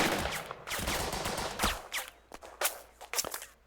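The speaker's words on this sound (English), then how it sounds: "we need to go with the rifles first. So we select this squad and shoot" A rifle squad opening fire in the strategy game Burden of Command, a ragged volley of close gunshots cracking in quick succession, then scattered individual shots trailing off, no voices.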